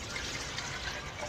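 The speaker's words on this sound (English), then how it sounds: "I'm going to look at my juice as I pour it." Muscadine juice pours steadily into a container for jelly, a soft continuous liquid trickle close by with no talking.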